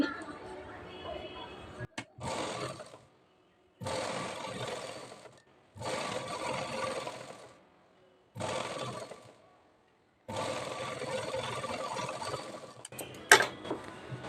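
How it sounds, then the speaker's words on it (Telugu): A sewing machine runs in several bursts of a few seconds each with short silent pauses between, stitching the folded half-inch edge of a princess-cut blouse. The motor whirs close and clear, with a faint knock near the end. "దీన్ని ఇప్పుడు ఇలా ఫస్ట్ ఒక 1/2 ఇంచ్ లోపలికి ఫోల్డింగ్ చేసి కుట్టుకోవాలి."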